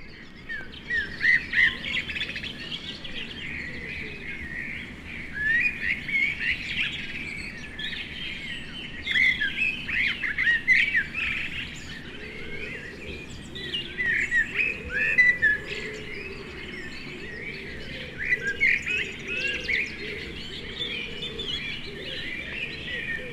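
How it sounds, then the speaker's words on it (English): Resident woodland birds in Britain sing a dense dawn chorus, many overlapping chirps, trills and whistles from several birds near and far, steady and continuous throughout with no voices. "Not long afterwards, the dawn chorus begins."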